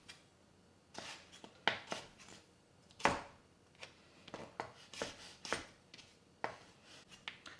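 Kitchen knife slicing bite-sized carrot pieces into thin strips on a cutting board: a dozen or so crisp, irregular chops, close and clear, with quiet pauses between them.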